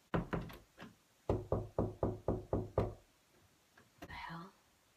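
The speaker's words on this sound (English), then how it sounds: "Who's knocking on my door at 2:30 in the morning?" Knocking on a door late at night, two separate bursts of sharp knocks, the first a quick triple and the second a steady run of about six, loud and close. A brief muffled sound follows afterward.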